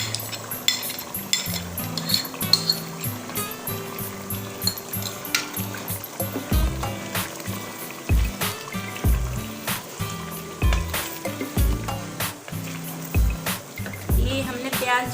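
Cashew, almond and seed paste goes into a pot of chicken korma, bringing a close, irregular series of clinks and scrapes of a utensil against the pot along with a soft wet stirring.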